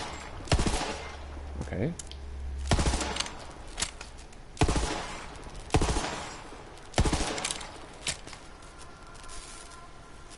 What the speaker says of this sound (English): This gun has a secondary fire mode, but it's the same as the primary fire mode. They're both burst fire.